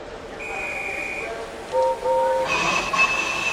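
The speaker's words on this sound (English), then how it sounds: "The guard's whistle blew and the two engines responded." Steam whistles sound in turn: one clear sustained blast, then a second lower whistle and a brighter answering one, with train noise underneath.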